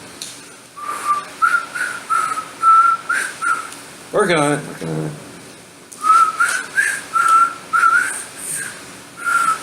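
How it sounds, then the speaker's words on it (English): Someone whistles a tune of short, bright notes in a steady rhythm. A brief spoken remark breaks in around the middle, then the whistling resumes and carries on to the end. "It's hard for me to whistle sometimes"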